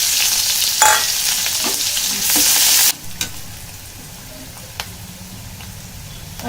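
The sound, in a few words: onions frying in oil in a wok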